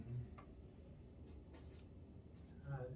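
A marker scratches and squeaks across a board in short strokes, fairly quiet, with a low background hum and a brief murmur of voices near the end.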